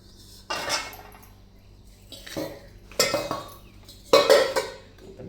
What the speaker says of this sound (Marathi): बाहेर भांडी घेऊन ठेवायचे.